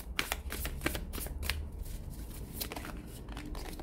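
Tarot cards are shuffled by hand in a continuous riffling patter with repeated quick flutters, close and moderately quiet, with no talking.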